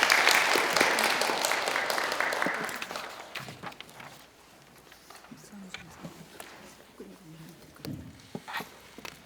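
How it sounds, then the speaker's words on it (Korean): An audience at a care-training lecture in Yongin claps loudly at first, the applause fading away over a few seconds into scattered shuffling and faint room noise. "큰 박수로 맞이해 주시기 바랍니다."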